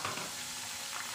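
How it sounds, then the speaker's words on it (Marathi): Coriander and mint leaves fry in hot oil for a Hyderabadi veg dum biryani, giving a steady, close sizzle and crackle that holds evenly throughout with no talking. "आता आपण तळून घेऊ कोथिंबीर"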